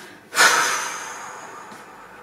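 A single strong exhale during a relaxation breathing exercise, a sudden breathy rush that fades slowly over about a second and a half, close and alone.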